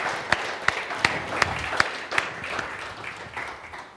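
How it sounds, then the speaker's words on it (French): A church congregation applauds together in a steady burst of clapping with sharper claps standing out at an even rhythm, gradually thinning toward the end. "Est-ce qu'on peut encore applaudir une fois,"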